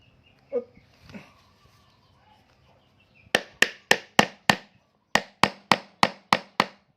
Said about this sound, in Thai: อันนี้ก็เดี๋ยวค้อนต่อครับผม มันจะฟิตตหน่อย